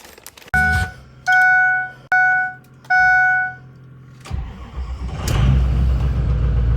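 A 6.0 diesel truck engine fitted with a new crank sensor cranks in several separate bursts with warning chimes between them, then catches and runs with a steady, loud rumble close by.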